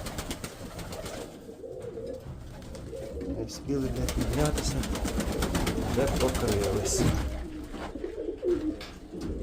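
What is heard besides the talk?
pigeons cooing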